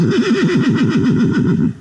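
A horse whinnies loudly and close, a long wavering neigh with rapid pulsing pitch that fades at the end.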